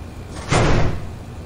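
In a video game, a door slides shut with a single broad whooshing thud lasting under a second, set against a steady low background hum.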